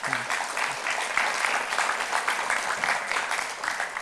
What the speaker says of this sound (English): the UCSB student body, round of applause